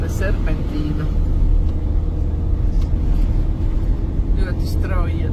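A car descending a steep mountain serpentine road in Switzerland, its engine and road noise a steady close rumble throughout, with faint talk inside the cabin.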